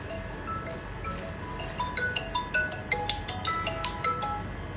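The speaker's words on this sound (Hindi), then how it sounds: "फ़ोन आ रहा है यार" A phone rings in a home, playing a bright repeating electronic ringtone melody that grows clearer halfway through and keeps going at an even pulse with no talking.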